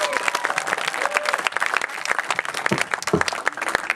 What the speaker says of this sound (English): Just give him applause.